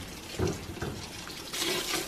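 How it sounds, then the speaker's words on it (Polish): Cold tap water runs over freshly cooked, drained noodles in a sink for Korean janchi guksu, a steady splashing rush with louder surges as the noodles are moved and rinsed. "Ugotowany makaron po odcedzeniu szybciutko trzeba przelać"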